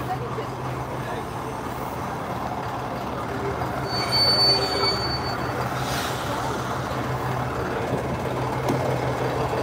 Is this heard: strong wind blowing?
no